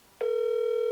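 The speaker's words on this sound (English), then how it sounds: "I'm gonna try to call the delivery guy one last time." A phone call to a straw bale delivery driver, heard as a single steady electronic ringing tone that starts suddenly and holds on, clear and alone.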